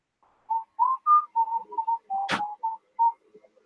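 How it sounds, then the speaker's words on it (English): A person whistles a short halting tune of clear single notes, near and moderately loud, with a sharp click partway through and quiet gaps between phrases. "I heard you whistling"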